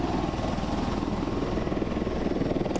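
Marine One's helicopter rotor thumps steadily in a loud, continuous rhythmic chop, close and overhead at Kelly Field, San Antonio, with no talking.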